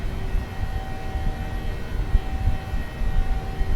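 A PMDG Boeing 737-600 jet airliner climbing out over the Wirral Peninsula and Birkenhead in Microsoft Flight Simulator 2020 gives a steady, continuous engine roar with a low rumbling base and faint tonal whine, heard alone throughout.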